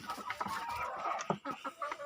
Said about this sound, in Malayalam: ഗ്രാമശ്രീ കോഴിയുണ്ട് ഇതിനകത്ത്, പുള്ളിക്കോഴിയുണ്ട്, പയോമിയുണ്ട്.